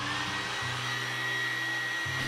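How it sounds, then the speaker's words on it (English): A hairdryer blows steadily up close while heating the display of an iPhone XR for repair, a continuous whirring roar with a low motor hum that dips briefly in pitch, no talking. "Using a hairdryer, heat the display surface for 1 or 2 minutes."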